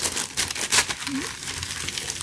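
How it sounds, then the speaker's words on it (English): Tissue paper crinkles and rustles in sharp, irregular bursts while a Palace Skateboards black T-shirt is unpacked, close and crisp, with a brief voiced sound partway through. "Tissue paper"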